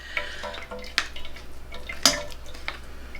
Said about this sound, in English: I'm mashing into the strainer